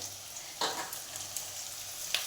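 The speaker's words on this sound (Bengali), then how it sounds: "তেলটা গরম হয়ে গেছে, তাতে আমি কাঁচা পেঁয়াজগুলো দিয়ে দেবো, ভাজবো" Raw onions fry in hot oil for a ghugni recipe, a steady close sizzle broken by a few sharper bursts as they are stirred, with no talking.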